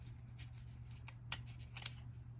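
Scissors snipping through gift wrapping paper, a few crisp close cuts in quick succession over a faint steady hum, with no talking.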